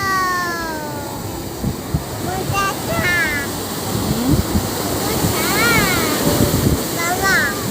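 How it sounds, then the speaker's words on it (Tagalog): Ocean waves surge and crash on the shore at a beach resort, a loud, continuous roar with wind buffeting the microphone, while excited voices talk and call out over it. "Ramdam na ramdam mo at rinig na rinig mo yung alon."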